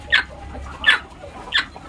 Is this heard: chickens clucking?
yes